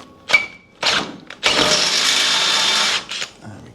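A power drill whirs close up, first in two short bursts and then in a loud sustained run of about a second and a half before cutting off.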